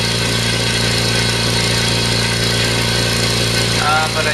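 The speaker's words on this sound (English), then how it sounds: "It's really unusual to be able to talk over air compressor." A California Air Tools Ultra Quiet Syclone 6310 oil-free air compressor runs in a steady, even hum close by, with a voice talking over it near the end.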